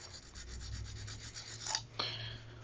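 A brush scrubs the weld on a 1980s Mongoose Blue Max bicycle frame, a quiet rasping rub in short repeated strokes, with two sharper scrapes near the end.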